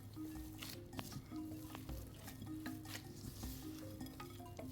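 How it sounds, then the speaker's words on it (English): Raw ground beef being mixed by hand with salt for smashed burger patties, soft wet squishing and kneading sounds, close and continuous, with faint background tones and no talk. "So just mixing the beef,"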